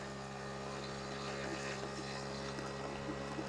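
A 1982 Honda Urban Express scooter, a barn find being revived, idles with a steady small-engine drone and faint buzzing hum, constant and fairly quiet throughout with no talking.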